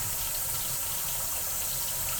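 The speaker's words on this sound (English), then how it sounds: "So I'm just going to turn on the hot water here and try not to point it at me and get it all over." Hot water runs steadily from a tap in a hydroponic grow tent setup, a continuous close hiss and splash with no talking.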